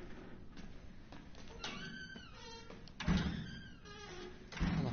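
A door in the Resident Evil 7 video game is shut with a low thunk and creaking movement inside a tanker setting, faint game ambience around it, no talk.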